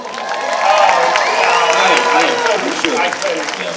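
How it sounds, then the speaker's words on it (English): Fan convention crowd applauding and cheering loudly and steadily, a dense wash of clapping with whoops and raised voices mixed in throughout. "And please, a round of applause."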